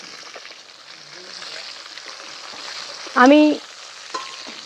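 Mrigel fish pieces fry in hot oil with a steady, close sizzling hiss. A voice briefly speaks over it, and there is one short clinking utensil sound.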